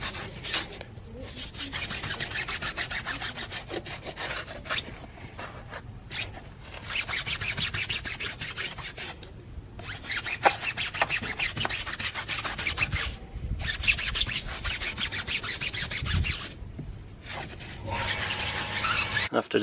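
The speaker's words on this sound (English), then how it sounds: "It has some soft bristles so it won't hurt the rims. But it's hard enough to scrub the tire" A soft-bristle brush scrubs a car tire during a wheel wash, making continuous close rough scratching in rhythmic back-and-forth strokes with brief pauses between passes, no talking.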